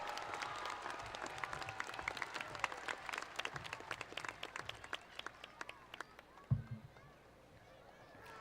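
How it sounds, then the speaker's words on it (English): Graduates of Tift County High School receive applause at a graduation ceremony, a faint, distant, crowd-wide clapping with scattered sharp individual claps that thins out and fades after a single loud thump near the end. "Let's give these graduates of Tift County High School a round of applause."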